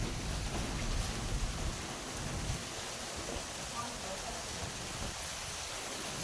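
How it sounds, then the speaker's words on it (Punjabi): Unseasonal rain pours steadily in rural Punjab, a dense, even hiss of falling water that stays fairly loud and unbroken throughout, with a slightly heavier low rumble in the first couple of seconds. "ਮੀਂਹ ਆ ਗਿਆ"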